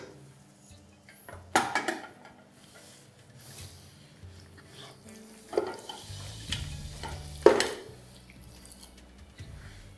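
Mutton with black cumin is mixed in a pressure cooker pot, heard as soft scraping and stirring with a faint sizzle, broken by a few louder clanks of the spoon against the metal.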